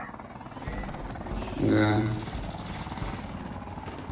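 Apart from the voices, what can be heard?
helicopter in video game Call of Duty Mobile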